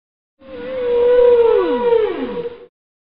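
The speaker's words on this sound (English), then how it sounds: "Orca." An orca call: a single drawn-out tonal whistle that holds steady and then sweeps downward, clear and close for about two seconds, with harmonics above it.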